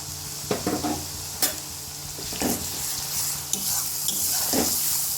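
Onion, green chilies, ginger and garlic stir-fried in a pan, a constant close sizzle with occasional knocks and scrapes of a spatula against the metal.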